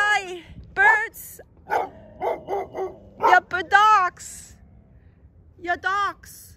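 Dogs bark in short, repeated bursts close by, mixed in with people talking over them.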